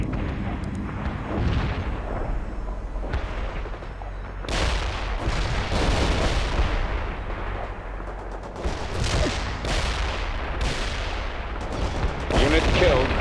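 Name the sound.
medium artillery fire in the video game World in Conflict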